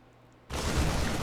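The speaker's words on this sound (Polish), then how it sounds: "tutaj właśnie parę strzałów było" Gunfire and explosions in a StarCraft 2 Terran versus Protoss match, erupting suddenly after a quiet stretch into a loud, dense wash of overlapping shots and blasts that continues to the end.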